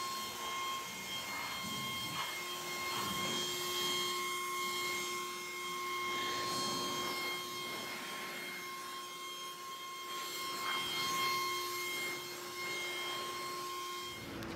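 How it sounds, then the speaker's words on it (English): Air blower drying a freshly washed car before a tire sealant test, a steady whining rush of air with a constant tone, moderately close and continuous without talk. "I am going to use a blower to blow it a little bit to speed up the process"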